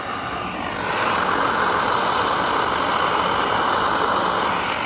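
A camping stove burner, compared to a small jet engine, roars steadily, with the noise swelling after the first second and then holding as a loud, even, broadband rush. No one speaks.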